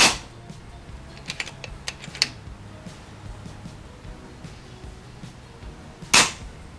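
Air rifle shots from an 800mm Impact firing 40 grain javelin pellets outdoors: a sharp crack at the start and another near the end, with a few faint ticks and clicks between them over low background hum.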